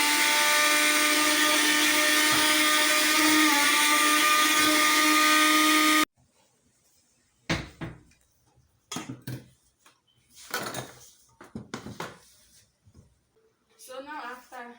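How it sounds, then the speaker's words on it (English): Sugar being ground in a kitchen blender, a loud, steady whirring drone for about six seconds that stops abruptly, followed by scattered clicks and handling knocks, then a voice speaking near the end. "we are going to blend our sugar in our blender"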